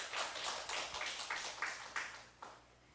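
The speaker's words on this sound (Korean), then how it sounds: "하나님께 영광의 박수 돌리겠습니다" Scattered applause from a small church congregation at a dawn revival service, uneven claps fading out toward the end, fairly quiet and distant.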